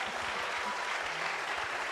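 Church congregation at a youth revival congress applauding steadily, a dense wash of clapping filling the room at a sustained, moderate level with no talk over it.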